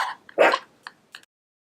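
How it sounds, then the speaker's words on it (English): A pet dog indoors barks right after a doorbell rings, one loud close bark followed by a couple of shorter, quieter yips, then silence. "And that's my dog."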